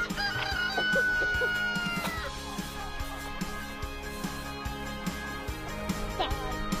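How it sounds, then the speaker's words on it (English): A chicken clucks in short repeated bursts, with a rooster-like crow near the start and steady background noise throughout. "There's your favorite chicken, Sarah!"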